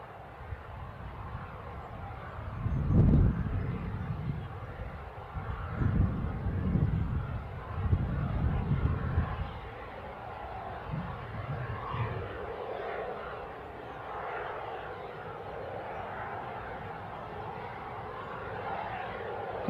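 A KLM airliner rolls at Newcastle International airport, a distant, rumbling jet roar swelling in a few low surges and then settling into a steady whoosh with wind noise on the microphone.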